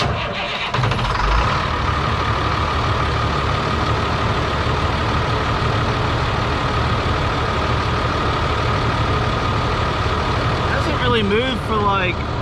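An old diesel truck engine cranks and fires up, then settles into a steady, loud idle with a low, constant rumble, close by, and a brief rattling flutter near the end.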